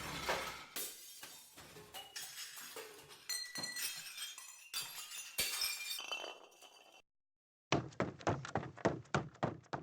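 Glass shattering and breaking in the video game Danganronpa: Lapse, with a run of clinks, thunks and crashes, a short silence, then a quick series of sharp bright ticks at the end, moderately quiet overall.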